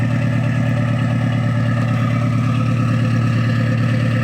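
Subaru Legacy 2.5 GT, turbocharged, fitted with an aftermarket eBay catback exhaust and idling from a cold start: a steady, deep burbling drone that stays close and even, with no voices.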